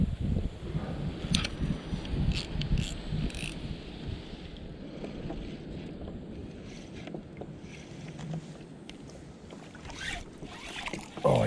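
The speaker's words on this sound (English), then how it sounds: "Just as I was paddling." Kayak paddling on water while fishing, soft splashes and water movement mixed with gusty wind noise across the microphone, fairly close and continuous without talk.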